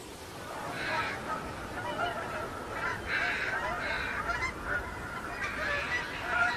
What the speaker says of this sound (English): the Mississippi becomes a crossroads for water birds